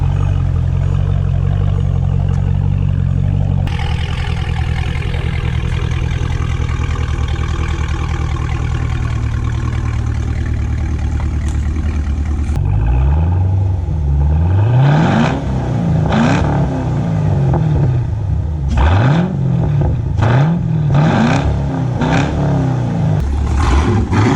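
A Camaro SS fitted with high flow cats idles with a deep steady burble, then after a pause a series of sharp, loud revs rise and fall repeatedly, close to the car.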